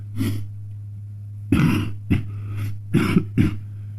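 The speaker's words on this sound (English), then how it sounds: "There's the coughing again." Several short throat-clearing coughs in irregular bursts, close by, over a steady low electrical hum with no talking.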